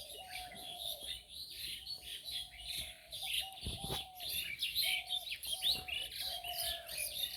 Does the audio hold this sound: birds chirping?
yes